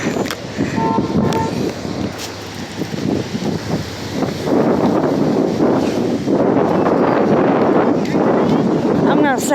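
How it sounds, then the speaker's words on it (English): Very strong wind buffets the microphone outdoors in loud, continuous gusty rumbling throughout, with a person talking faintly underneath. "Very, very strong wind."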